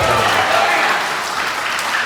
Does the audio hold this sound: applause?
yes